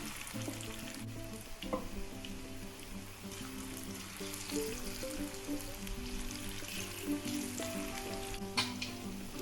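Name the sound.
cauliflower pakoda pieces frying in hot oil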